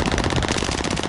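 Rapid automatic gunfire from Call of Duty rattles on continuously in a dense, loud, evenly spaced burst of shots with no pauses.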